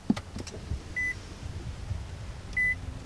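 Push-button starts of a 2019 Nissan Altima SR and a 2019 Honda Accord Sport, with two short electronic beeps about a second and a half apart over a low idle hum and light clicks inside the cabin.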